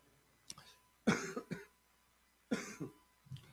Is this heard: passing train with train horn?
no